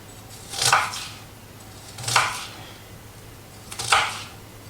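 A knife chopping onion on a board for pork fajitas, three distinct, evenly spaced thuds, close and moderately loud over quiet room tone.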